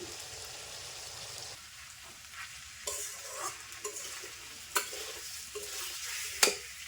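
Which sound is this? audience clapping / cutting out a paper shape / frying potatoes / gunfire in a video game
frying potatoes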